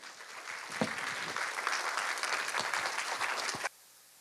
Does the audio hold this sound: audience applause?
yes